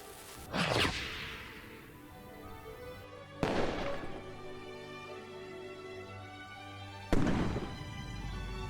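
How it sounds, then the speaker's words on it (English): Fireworks launch in the video game Foolish Mortals: three separate whooshing bursts spaced a few seconds apart, each a sharp crack trailing off into a fading hiss, with no voices. "How many fireworks were in that thing?"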